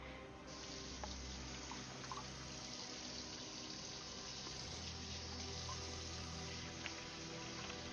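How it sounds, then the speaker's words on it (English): Steady water runs from a tap while sticky hands are rinsed beneath it, a constant close gush with small splashes and no talking. "Let me rinse my hands again. It's getting too sticky."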